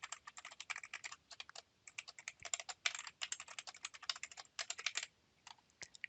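Password typed on a computer keyboard, a fast run of crisp key clicks in uneven bursts for about five seconds, close and clear with no talking.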